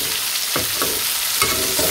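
Spices frying in plenty of oil in a village kitchen give a steady close sizzle, broken by a few soft stirring scrapes.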